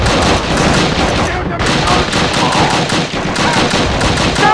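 An MG machine gun fires in Call of Duty: Roads to Victory, a World War II battle scene, with continuous loud rattling bursts and surrounding gunfire throughout, mixed with shouted voices.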